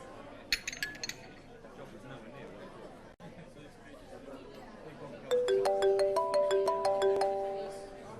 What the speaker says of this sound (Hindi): अबीर का फोन है, मैं बात कर लेती हूँ।